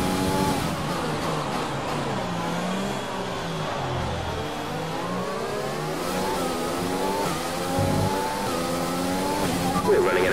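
A Formula 1 car in the F1 2020 racing game at Bahrain, its engine revving loud and continuous as it climbs and shifts through the gears, with a race engineer's radio voice speaking over it.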